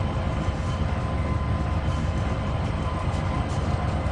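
A freight train in the Trainz 2022 railway simulator eases down to yard speed near a container facility, producing a continuous low rumble with a dense rhythmic wheel clatter and no talking.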